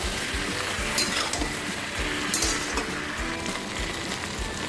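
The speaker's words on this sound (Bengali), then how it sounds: "সেই আদা আর মৌরি বাটার পেস্টটা এর মধ্যে দিয়ে দেব দিয়ে ভালো করে সমস্ত মশলাটা সবজির সাথে মিশিয়ে নেব" Vegetables mixed with ginger-fennel paste and spices, stirred in a hot pan for a Bengali palta leaf shukto; steady sizzling with rhythmic scraping strokes of a spoon against the pan.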